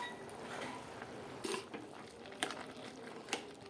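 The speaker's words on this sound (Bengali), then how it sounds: "এবার এটা আমরা ভালো করে নেড়ে দিই" Wilted spinach being stirred in a cooking pot, with soft shuffling and scraping under a low background hiss and a few light metallic clinks of the utensil against the pot, quiet and close.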